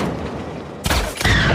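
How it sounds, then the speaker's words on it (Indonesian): A sudden burst of loud gunfire breaks in after a quiet stretch, with a second volley of sharp, clattering shots close behind. "saling tembak pun terjadi"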